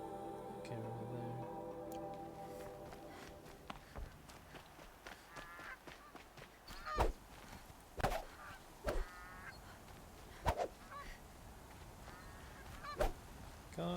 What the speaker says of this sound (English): Can't attack the goose.